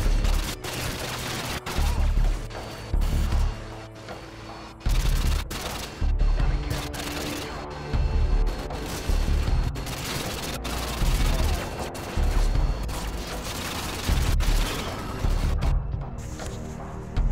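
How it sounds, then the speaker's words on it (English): Vitiaz submachine gun fired in Call of Duty: Modern Warfare 2, loud rapid bursts of automatic fire separated by short pauses, repeating about a dozen times, close and punchy with no talk. "Vitiaz submachine guns, which are used by the military and police forces in the Russian Federation"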